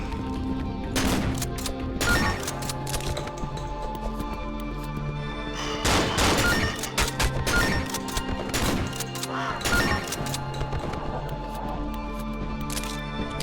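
M16 rifle gunfire in the video game Cry of Fear, loud bursts of rapid shots recurring every couple of seconds over a steady droning background tone.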